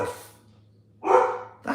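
A dog barks twice, loud and close, with a short gap between the barks and quiet room tone around them.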